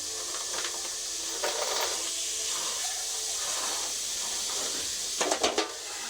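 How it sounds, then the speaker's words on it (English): A steady sizzle of meat searing in a hot pan, with a few light clatters and a short louder burst near the end. "now we're going to slap these other three in. That nice sizzle."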